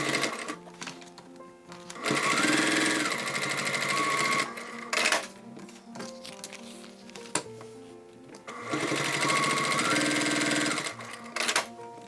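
A sewing machine top-stitches the seam of a fabric bag, running in several whirring bursts of a few seconds each, separated by short pauses, close and clear with no talk.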